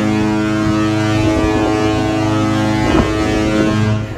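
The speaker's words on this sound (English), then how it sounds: "There's the foghorn. I told you you'd hear it." A ship's foghorn blows a loud, sustained, deep and tonal blast that holds steady for several seconds over wind noise before tapering off at the end.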